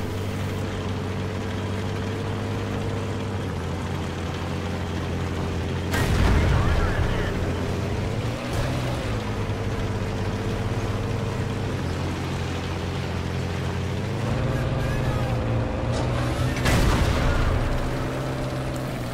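Tank cannon fire in World of Tanks from an IS-4 heavy tank, with two heavy booming shots several seconds apart over a constant low engine rumble and droning game audio.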